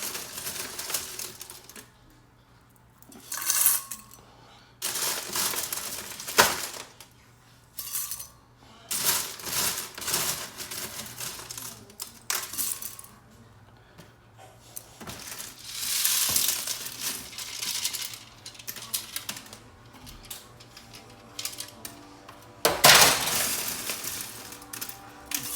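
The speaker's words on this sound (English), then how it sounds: "I'm going to put them in the blender right here," Blender grinding dried garlic scapes into powder, heard as repeated short bursts of harsh, rattling, crunchy grinding separated by pauses, fairly close and loud, with no talk.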